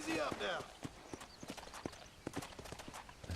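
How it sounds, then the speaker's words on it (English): Donkey hooves plod in a steady, irregular series of clip-clop steps in the Western video game Red Dead Redemption, close and fairly crisp, with a voice talking over the first half-second. "Taking a donkey for a walk"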